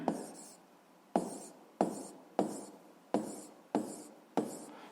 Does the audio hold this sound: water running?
no